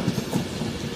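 A Class 390 electric train, unit 390117, rumbles and clacks over rails as it pulls into platform 6 at London Euston, a short steady low roar.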